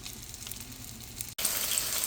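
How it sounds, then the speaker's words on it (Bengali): Onions frying in oil in a pot give a steady, close hiss that jumps to a louder, brighter sizzle after a brief cut. "পাতিলে তেল দিয়ে পেঁয়াজ দিয়েছি পেঁয়াজটা একটু ব্রাউন কালার হলে একটু লবণ দিয়ে দেব"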